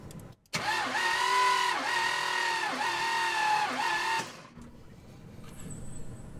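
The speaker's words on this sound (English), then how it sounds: "I put some oil in that cylinder and we're gonna crank it again" A GMC motorhome engine cranks over on the starter during a compression test with oil added to a cylinder, a loud steady whirring with rhythmic compression pulses for several seconds, then it stops and a faint whine lingers.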